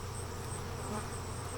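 Honey bees crowding a wooden hive entrance and brood box, a dense steady buzzing drone, close and loud and unbroken throughout.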